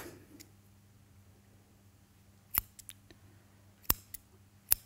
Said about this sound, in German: Und schneidet die Schlingen auf.